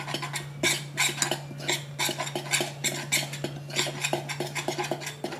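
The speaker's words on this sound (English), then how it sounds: "Just gonna stir this up." A utensil clinks and scrapes in quick, rhythmic strokes as a paprika and cayenne spice mixture is stirred in a bowl, close and clear with no talking.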